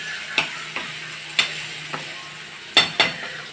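Tomato and onion cook gently in a pan with a low background sizzle, punctuated by about six crisp spoon clacks against the metal at irregular intervals.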